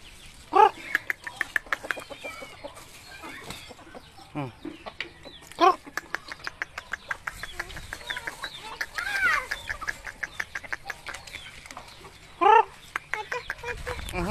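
Chickens cluck steadily in a busy farmyard during feeding, with bursts of louder squawks and faint talking now and then in the background.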